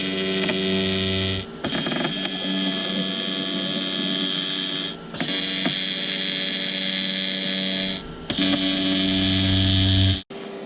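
Electric welding on a B16 coolant fill pot tube produces a loud, close buzzing hum in four sustained bursts separated by brief pauses.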